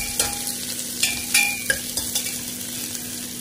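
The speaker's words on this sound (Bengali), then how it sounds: "জিরেটা ফুটে গেলে আমি ঢেলে দেবো পেঁয়াজ" Long-sliced onions fry in oil with cumin seeds, giving a constant bright sizzle broken by several sharp stirring scrapes of a spoon against the pan, close and without speech.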